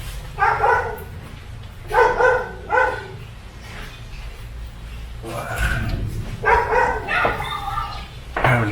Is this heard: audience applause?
no